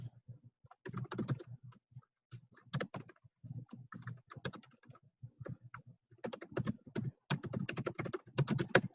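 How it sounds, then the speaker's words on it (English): Rapid clicking of computer keys during an online meeting, bursts of typing with short pauses, fairly close and moderately loud, no talk over it. "Oh, I got to mute because I'm typing."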